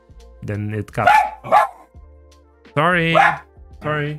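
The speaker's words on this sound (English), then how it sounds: "Sorry for the dog bark." A dog barks several times nearby, short loud woofs in a few separate bursts, while someone talks at the same moment.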